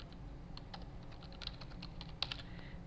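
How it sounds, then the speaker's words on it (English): Typing on a computer keyboard, a quiet stream of soft, irregular key clicks with a few louder taps, heard close over a low background hum. "Okay, I'm going to start typing."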